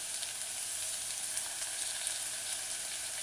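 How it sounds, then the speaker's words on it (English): Onion, scallion and mashed garlic sautéing in a pan for a mushroom tomato stew, an even, continuous close sizzle with no talking. "allow the vegetables such as the onion and the scallion along with the mashed garlic to saute"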